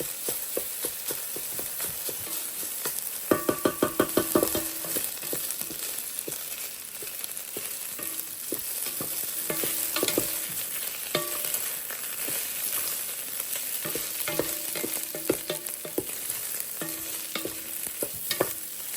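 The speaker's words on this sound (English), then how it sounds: "It's just regular white rice. And we're going to cook this in this oil for 2 to 3 minutes." White rice toasting in hot oil in a single pot, stirred now and then, with a steady soft sizzle throughout and a few louder scraping stirs near the start and middle.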